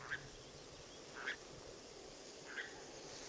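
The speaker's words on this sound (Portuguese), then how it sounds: "A coruja novamente." A distant owl calls at night, three brief, faint cries spaced about a second apart over a steady hiss of nocturnal background noise.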